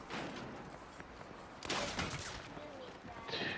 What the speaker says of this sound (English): Who was shooting me?